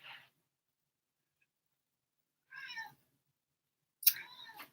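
A pet cat meows three times, short separate cries with silent gaps, the last one louder and sharper, close by with no talk over them.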